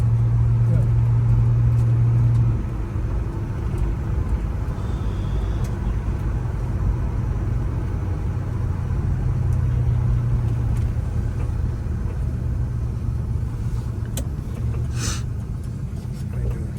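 A 1978 Pontiac Trans Am with a 400 V8 idles and drives in a steady, low rumbling drone, smooth and even, close by and filling the whole stretch.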